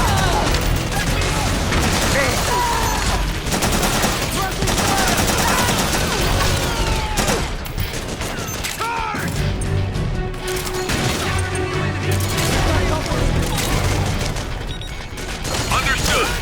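Heavy suppressing gunfire in Metal Gear Solid 4, sustained loud automatic bursts and clattering impacts on a battlefield, continuous for over fifteen seconds with voices shouting underneath.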